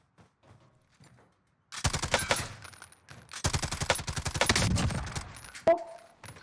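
Rapid automatic gunfire in a Warzone solos match, with long sustained bursts of close, loud shots, a short pause between them and a sharp final report.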